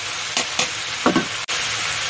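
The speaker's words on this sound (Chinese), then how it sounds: "继续炒下" Bean vermicelli stir-fried in a wok makes a few short scraping and sizzling bursts over a low, continuous frying hiss.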